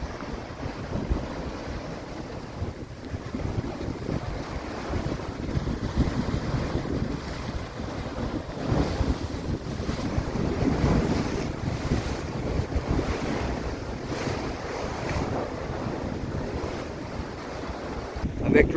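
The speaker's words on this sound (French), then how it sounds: "Avec l'océan bien déchaîné, ça doit être magnifique." Rough Atlantic surf and strong wind at Les Sables d'Olonne, a continuous loud roar of breaking waves with heavy wind buffeting the microphone, swelling and easing over the whole stretch with no talking.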